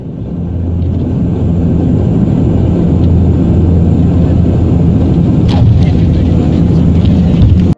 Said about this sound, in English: Hard and bouncy landing of an Antonov An-24 at Irkutsk Airport in Russia.